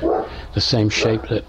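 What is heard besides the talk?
dog barking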